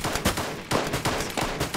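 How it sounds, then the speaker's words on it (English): A player firing in the video game Arma 2 DayZ: several sharp, separate gunshots in an irregular rhythm, each with a short echoing tail, heard clearly with no talking. "He's shooting at me."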